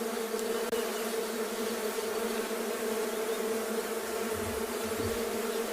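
Digging bees at Tswalu in the Kalahari buzz in a steady, continuous drone near their excavated burrows, fairly quiet and even throughout with faint background ambience and no talking.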